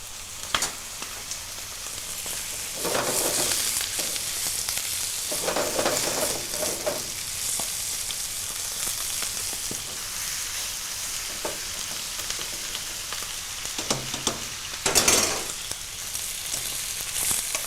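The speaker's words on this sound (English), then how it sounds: "So basically what you're really doing is you're sauteing it on the outside" Chicken livers, trimmed of fat, sizzle steadily in a hot pan for timpana, a continuous close frying hiss with occasional louder bursts and scraping as the pieces are stirred, with no talk.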